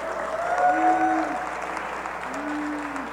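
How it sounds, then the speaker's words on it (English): Applause for Steve at the Eighth Annual Rumble Young Man, Rumble! event, a steady, moderate wash of clapping under a voice that speaks briefly over it. "let's give Steve a round of applause."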